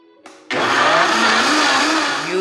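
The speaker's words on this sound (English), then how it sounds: "just going to blend this" A kitchen blender starts with a short whir, then roars up to full speed and runs steadily, blending chorizo taco sauce, loud and close with no talking.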